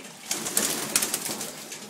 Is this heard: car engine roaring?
no